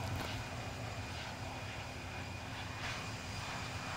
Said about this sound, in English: on the right engine view, it gets really bad vibration sound in the ear